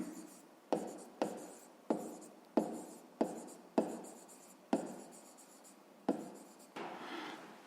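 Pen on paper during a fifth-grade maths exercise, heard as about ten short, scratchy strokes, each starting sharply and then fading, at an uneven pace, close and quiet with no talking.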